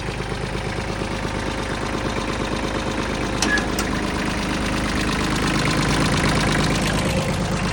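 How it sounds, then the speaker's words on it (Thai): A three-cylinder diesel engine on an Iseki tractor idles close by with a steady, rapid knocking chug, running continuously at an even pace without voices. "เครื่องยนต์สามสูบนะครับ อ่าเครื่องยนต์สามสูบ"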